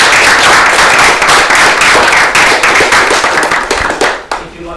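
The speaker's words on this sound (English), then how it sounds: "So a big round of applause for her." An audience at a charity event giving a loud round of applause, dense close clapping that keeps up steadily and then tails off at the end.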